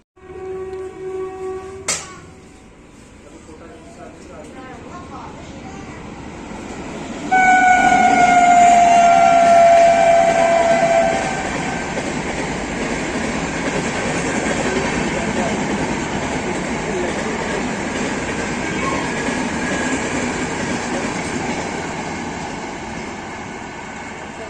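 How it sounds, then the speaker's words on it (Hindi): A fully air-conditioned LHB train passes Palwal station, its broad rumbling roar building and then holding steady. A high tonal horn or whistle sounds near the start, followed by a long sustained wash of wheel and carriage noise. "तो अभी अभी यहाँ से एक ट्रेन क्रॉस हुई पलवल से"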